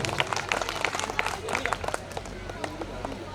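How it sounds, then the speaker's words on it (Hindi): Scattered clapping from an audience at a Hindi poetry recital, applauding children, with sparse individual claps over low room hum and some talk mixed in. "एक बार तालियों से अभिमंत्रित करें बच्चों को"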